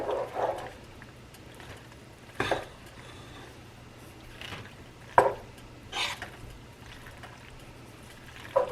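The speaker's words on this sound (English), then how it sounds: "A good stir." A spoon stirs smoked Gouda into thick macaroni and cheese in a pot, with a few separate scraping, clinking bursts spaced out over quiet room tone.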